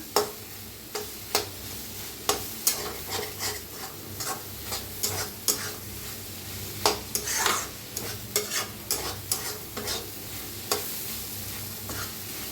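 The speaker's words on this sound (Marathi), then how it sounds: "साधं हलवत का नाही भाजून घ्यायची अंडी, म्हणजे गाठी होत नाही त्या अंड्यात ना।" Beaten eggs sizzling in a hot pan for egg fried rice while a spatula stirs and scrapes them, giving irregular sharp clacks over a continuous frying hiss, close up and with no voices.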